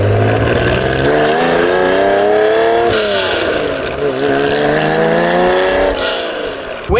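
A stripped-down sports car with carbon roof and bonnet and plexiglass windows revs its engine hard, the pitch climbing and dropping in loud repeated sweeps close by, with no talking.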